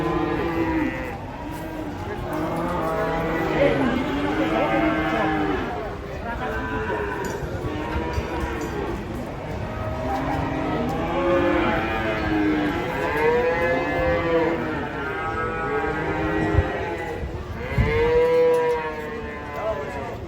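Cattle, agitated and unruly, moo loudly and repeatedly while being unloaded from a truck, with overlapping calls throughout and people talking and shouting nearby.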